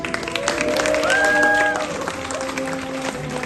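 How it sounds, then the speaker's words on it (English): Applause at a graduation as a graduate is called forward, steady clapping from a gathered crowd with whoops and voices rising over it. "A big applause for Isabel."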